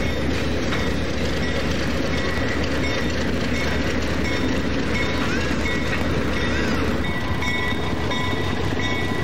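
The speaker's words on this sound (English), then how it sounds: "the distinctive sounds of an Alco 244 model diesel, a sound now only rarely heard" Alco 244 diesel locomotive on the Adirondack Centennial Railroad, a loud continuous engine drone with rolling rail noise and faint squeals throughout.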